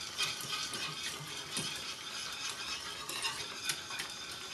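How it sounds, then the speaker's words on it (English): Smoky creamy wine sauce stirred in a pan over low heat, giving a quiet, close scraping swirl with soft sizzling underneath, a few brief louder scrapes, and no voices. "I'm going to attend to my sauce real quick, and I'm going to stir it up a little bit more."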